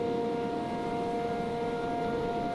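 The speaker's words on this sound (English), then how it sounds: "Sirens are going the fuck off." A steady siren tone in modded Minecraft during a tornado hums continuously over a rough, rumbling background, unwavering and mid-distance, with no talking.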